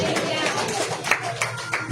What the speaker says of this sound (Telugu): ఒకసారి బిగ్గర చప్పట్లు కొట్టాలి అందరూ